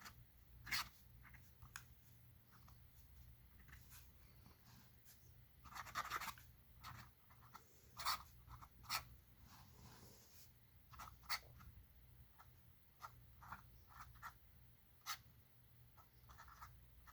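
A fountain pen nib scratching across paper in short, irregular strokes, close and fairly quiet, with brief pauses between bursts of writing over a low background hum.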